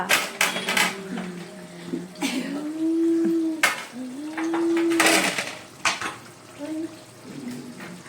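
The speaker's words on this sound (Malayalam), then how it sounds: "എന്റെ സൈറക്കുട്ടി ആ പാത്രം അവിടെ വെക്കി" Metal pots and pans clank and scrape in a home kitchen as a child handles a cooking vessel while beef curry boils, with sharp knocks and ringing between brief voices and squeaky tones.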